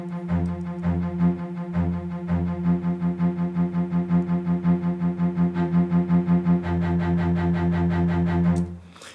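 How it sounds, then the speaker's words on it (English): A cello plays short, detached staccato notes in a steady, driving rhythm, repeated pulses continuing for several seconds before stopping. "Now we have a cello staccato, and these are from Orchestral again, strings, cello staccato."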